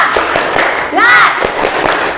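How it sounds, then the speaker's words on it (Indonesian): Loud rhythmic group clapping in a classroom cheer led by a female teacher, steady thudding hand claps with a brief sung shout from the group partway through. "Kita mulai, tepuk semangat."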